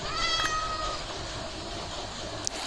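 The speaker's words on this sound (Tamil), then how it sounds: "ஒரு பூனை போச்சுடா." A cat meows in the video game Minecraft, a couple of clear, close mewing calls near the start over a steady background hum, followed by a brief faint chirp near the end.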